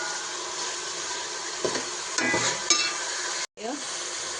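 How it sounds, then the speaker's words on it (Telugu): Ginger paste stirred and fried in a pan for a Telangana festival dish: a steady broadband sizzle runs throughout, with a few louder scraping stirs near the middle and a brief dropout before the frying resumes. "అల్లం పేస్ట్ పచ్చివాసన పోయేంత వరకు ఇట్లా మంచిగా కలుపుకుంటే వేయించుకోవాలి అరగంటకుంటా."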